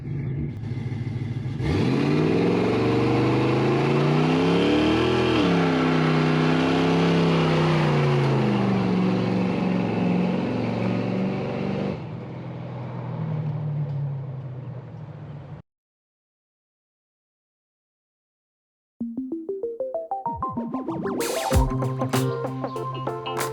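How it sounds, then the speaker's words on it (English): A car revving hard through a burnout at a car show, a loud, sustained engine roar with rising and falling pitch that drops off abruptly, then after a pause, clattering mechanical bursts and further revving. "You didn't think we'd leave you without a burnout"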